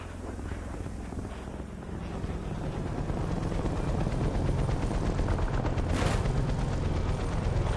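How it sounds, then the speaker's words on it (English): Enemy attack helicopter circling overhead in a Call of Duty match, a steady thrumming rotor drone with bursts of distant gunfire mixed in, moderately loud and continuous. "SITREP, enemy attack helo above"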